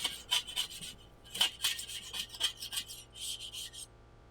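A metal scraper rasps across the inside of a Weber charcoal grill bowl, stuck-on residue giving repeated short, gritty scraping strokes in a rough rhythm, close and fairly quiet with no voices.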